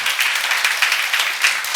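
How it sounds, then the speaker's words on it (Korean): Brief burst of clapping from a church congregation during a seminar on Ephesians, a dense steady patter of many hands at moderate distance. "박수 나와주세요"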